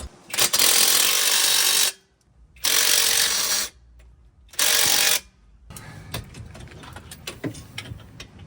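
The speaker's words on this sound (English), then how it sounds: "We need to torque these to 100 foot-pounds once I get them all in." A torque wrench tightens lift kit bolts on a Jeep Grand Cherokee, giving three loud bursts of rapid ratcheting clicks separated by short pauses, then quieter mechanical clinks and handling noise.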